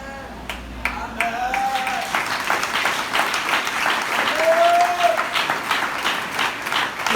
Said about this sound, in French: Si tu veux acclamer, donne la plus forte acclamation à Dieu.